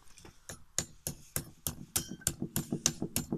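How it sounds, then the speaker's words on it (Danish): A hammer taps repeatedly on a spring seal during a restoration teardown, about a dozen sharp metallic knocks in a fairly even rhythm, close and clear. "kan jeg lige prøve at give den nogle dask med hammeren og se om vi kan få den af"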